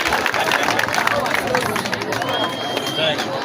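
A school crowd at a primary school football and netball finals claps for the top goal scorer, a scattered burst of applause mixed with loud outdoor chatter and a voice over a public address.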